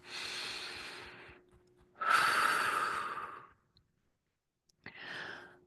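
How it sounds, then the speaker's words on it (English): Close, unaccompanied breathing: a long exhale, a stronger, fuller breath after a short gap, silence, then a brief final puff of air, each soft, airy and hissing. "Breathe it out."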